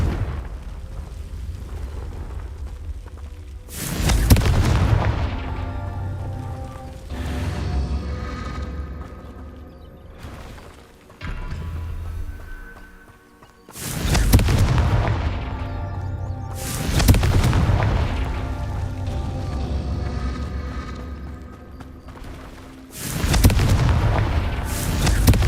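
Repeated Confringo blasting spells from Hogwarts Legacy boom out one after another, five or six loud explosive bursts each trailing into a rumbling decay.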